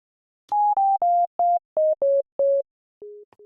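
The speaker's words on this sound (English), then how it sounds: "So again, I'll start with a sine wave." A series of short, pure synthesizer sine-wave tones in Ableton Live plays in a descending sequence of separate notes, clean and smooth, with brief gaps between them.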